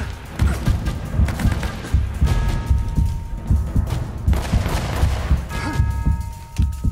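Rapid gunfire bursts and heavy thuds from a firefight in the Uncharted video game, loud and close, crackling in clusters with brief gaps, while voices shout over the shooting.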